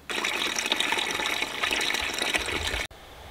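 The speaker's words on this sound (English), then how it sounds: "I'm gonna put some air temperature water in there first, and then we'll just add the really hot water" Water pours steadily into a collapsible bucket in a dense, hissing gush for about three seconds, then stops abruptly with a faint lower rush afterward.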